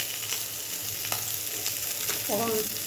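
Vegetables hit hot, overly browned tempering oil in a pan and fry with a loud, continuous sizzle, crackling with a few stirring scrapes close by.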